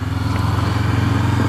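A 2016 Honda CB500F motorcycle engine on a test ride, a loud, close, steady throbbing drone with an even pulsing beat throughout.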